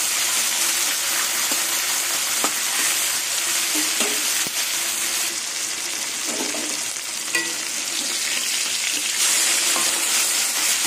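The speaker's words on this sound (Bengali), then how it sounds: "এইভাবে মাছগুলো সব ভেজে নেব।" Amudi fish sizzling steadily in hot oil, with a dense, continuous crackle throughout and occasional spatters and stirring knocks.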